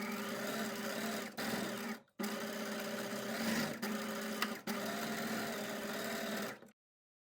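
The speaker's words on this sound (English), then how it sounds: "just got to sew them all now" Sewing machine stitching knife pleats in fabric, running in steady whirring bursts close by with brief pauses between runs, then stopping.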